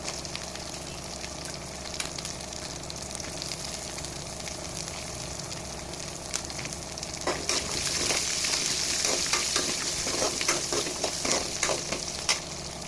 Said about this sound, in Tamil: தாளிச்சதுக்கு அப்புறம் ஒரு கையளவு உரிச்ச சின்ன வெங்காயம் போட்டு நல்லா வதக்கணும்.